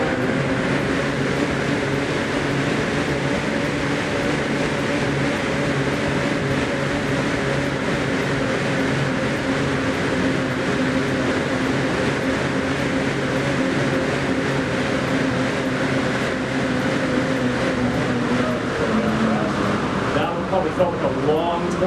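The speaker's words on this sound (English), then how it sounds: "we're gonna set up 4 rounds of 20 seconds of hard pedaling and 10 seconds of recovery for Rashad on the Aerodyne." An Aerodyne air bike's fan whirs loud and close in a steady, unbroken roar during hard pedaling, shifting slightly in tone near the end.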